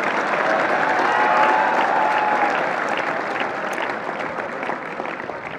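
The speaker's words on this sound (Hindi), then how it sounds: "आपके बीच के ताली बजाओ इनके लिए" An audience at a coaching-centre event claps for students and their teacher, steady dense applause at moderate volume that slowly eases.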